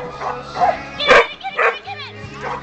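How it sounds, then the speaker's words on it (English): A small dog lets out a few sharp, yappy barks and whimpers, with people talking throughout. "the noise that this little dog can generate"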